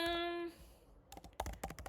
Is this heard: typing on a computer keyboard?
yes